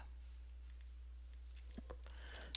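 Computer mouse clicks tap out a scattering of faint, close, sharp ticks over a steady low hum, with no talk.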